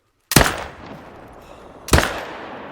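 Two loud rifle shots ring out in a hunting video game, roughly a second and a half apart, each a sharp close crack followed by a fading echo tail, with no one talking.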